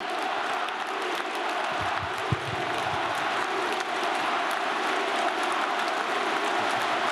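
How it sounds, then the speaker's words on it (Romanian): Crowd applause fills the National Arena, a dense, continuous wash of clapping from a large audience heard at a distance and sustained without a break, with no voices rising above it. "Să aplaudăm încă o dată!"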